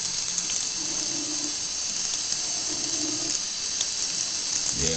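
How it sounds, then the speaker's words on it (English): Water runs softly and steadily from a tap into a dove's bath, a continuous gentle splashing hiss that stays even throughout, with a brief low bump near the end. "The water's coming out soft."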